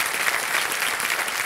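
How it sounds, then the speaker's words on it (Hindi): Studio audience at a televised quiz show breaks into steady, dense applause, loud and sustained throughout with no voices over it. "ताली बज जाए स्टेनोग्राफर के लिए।"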